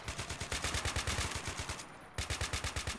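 Rapid bursts of AK-47 rifle fire in a video game battle, a loud rattling string of shots with a brief gap before the firing resumes at the same steady rhythm.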